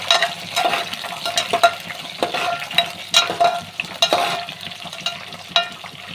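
Onions and green chillies fry in hot oil while being stirred, a steady sizzle broken by repeated scraping and clinking strokes of a spoon against the pan, close and with no talking.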